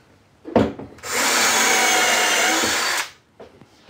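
A power drill or driver runs steadily for about two seconds while small screws go into a wooden shelf built to hold hand planes, with short knocks before and after the whir.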